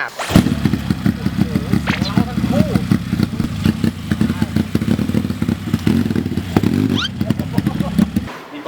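A Honda Wave motorcycle fitted with a homemade two-cylinder engine built from 100cc blocks with 125 cylinder barrels runs at a steady idle up close, with a dense, rapid low throb and mechanical clatter throughout while someone talks over it.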